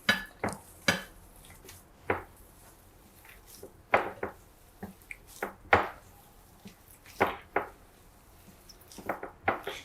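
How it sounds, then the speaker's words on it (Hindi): A spoon scrapes and taps around a bowl while potato cutlet mixture for aloo tikki is mixed with turmeric, giving irregular soft clinks and squishy strokes at close range with no talking. "अब इसको अच्छे से मिक्स कर लूँगी"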